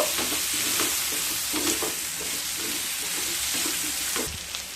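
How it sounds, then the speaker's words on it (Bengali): Pumpkin frying in a pan as turmeric and salt are mixed in, a steady close sizzle with repeated soft scraping strokes of a spoon through the pieces. "আবারও একবার মিশিয়ে নেব"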